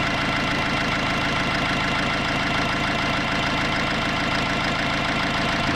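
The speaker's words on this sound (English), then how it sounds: "So right now it's idling at 800 RPM." A Toyota LandCruiser 79 engine idling at 800 RPM, a steady, loud, close rumble with an even rhythmic pulse, alone and without talk.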